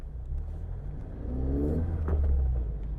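Mazda MX-5 ND engine fitted with a CleaR Motorsport sound tube, revving up with a rising mid-pitched growl that builds in loudness over a few seconds, heard from inside the car.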